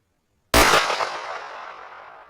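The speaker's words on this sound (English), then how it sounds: "right there was their first shot at the 7 yards with the KSG 12" Kel-Tec KSG 12 shotgun firing 00 buckshot with no choke at a 7-yard target: a single sudden, loud blast out of silence, followed by a long fading echo.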